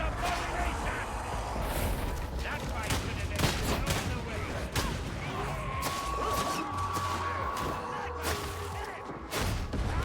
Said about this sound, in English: Ah, there's two snipers. All the snipers sniping.